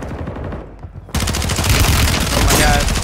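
Gunfire in Black Ops 6 comes in after a quieter start, then rapid automatic shots ring out loud and close, continuing steadily to the end.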